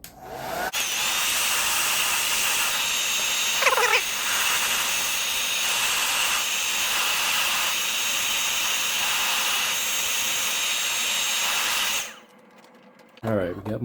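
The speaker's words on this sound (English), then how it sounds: "Blow dryer, nice hot heat." A hand-held blow dryer runs close and loud, heating a sticker off a GE AM/FM Superadio with a steady whirring whine for about twelve seconds before switching off, followed by a short, quieter sound near the end.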